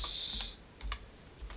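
Someone types on a computer keyboard in a quiet room, with a quick burst of close, crisp key clicks followed by a few scattered single taps and short pauses between them.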